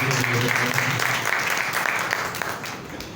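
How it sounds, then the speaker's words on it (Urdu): A church congregation giving loud, sustained applause, a dense wash of many hands clapping at close range that fades slightly near the end. "آئیں زوردار تالیاں خدا کی"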